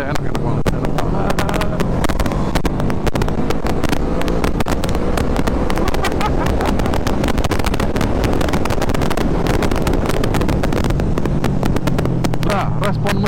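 A QJ Motor SRV 600 V 2025 motorcycle engine drones steadily throughout a test ride, loud and continuous, mixed with heavy wind rush against the microphone.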